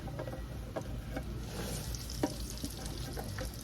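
Freshly chopped potatoes and a single onion frying in oil in a pan for homemade hash browns, a steady close sizzle with occasional crackles and light stirring scrapes.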